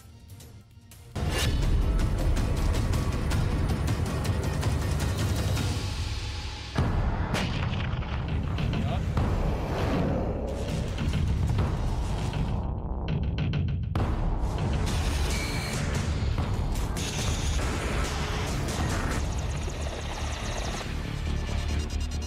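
A dense, continuous barrage of loud rumbling blasts and crackling fire goes on and on, with a droning engine-like roar underneath.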